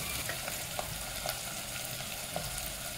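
Onions fry in a pan for chicken curry with a dense, steady sizzle, close and continuous, broken by a few light utensil taps as they are stirred.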